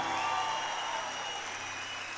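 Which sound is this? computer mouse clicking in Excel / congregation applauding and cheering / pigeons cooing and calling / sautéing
congregation applauding and cheering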